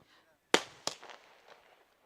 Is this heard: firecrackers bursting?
yes